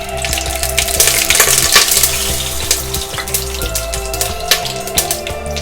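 Whole spices and a bay leaf dropped into a hot pan crackle and sputter with sharp, irregular pops over a steady sizzle, loud and close, with no voices present.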